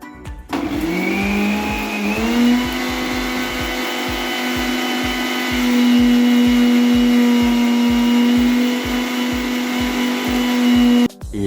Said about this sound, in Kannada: ಬನ್ನಿ ಇವಾಗ ಫಸ್ಟ್ ಇದು ಮಿಕ್ಸಿ ಹಾಕೊಂಬರೋಣ